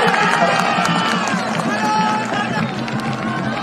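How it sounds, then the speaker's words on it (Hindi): A large political rally crowd in West Bengal claps and cheers in a sustained, dense roar of noise that fills the space, with a voice over a loudspeaker heard above the crowd. "ये जो आपकी तालियां हैं, ये जो आपकी गड़गड़ाहट है"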